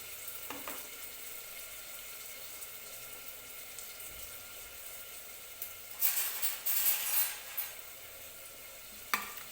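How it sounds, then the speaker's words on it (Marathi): Dry spices roast in a pan for a spicy dry mutton dish, producing a faint, steady sizzle and hiss with a few louder scraping, stirring bursts toward the end and no talking. "इथं आपण तोपर्यंत सुके मसाले भाजून घेऊया"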